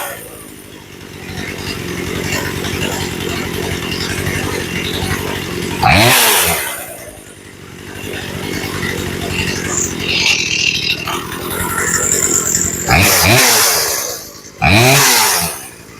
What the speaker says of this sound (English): We're turning the idle down until the chain stops spinning.